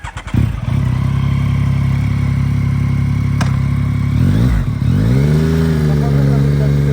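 A Yamaha TMAX 560 scooter engine drones loudly close by, its pitch dipping and climbing again as it shifts and revs up, while a voice speaks over it.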